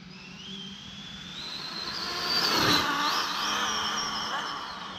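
An Arrma Limitless RC car on a speed run, its electric motor a rising high-pitched whine that sweeps up as it passes close and loud near the middle, then fades slightly as it moves away.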